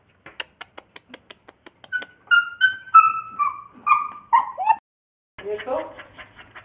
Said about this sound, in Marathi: कुत्रा आतमध्ये अटकलेला.